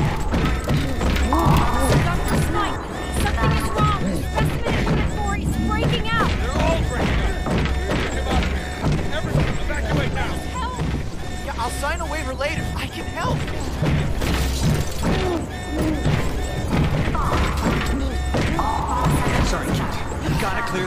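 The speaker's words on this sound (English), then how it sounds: "It's breaking the glass! It's breaking out!" A creature smashes through glass in an animated superhero episode. Loud crashes, thuds and impacts come under dramatic music and shouting voices.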